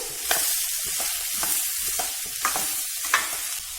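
Snake gourd sizzles in a hot pan while a spoon scrapes and stirs it in irregular strokes, close up, with no talking.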